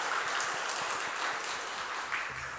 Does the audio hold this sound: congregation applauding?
yes